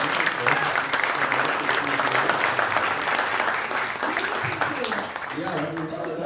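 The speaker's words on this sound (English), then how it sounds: "round of applause for Sarah" An audience at a 1 Million Cups startup pitch event in Daytona Beach gives a presenter a dense round of applause. The clapping is sustained and fairly loud, and voices begin talking over it near the end.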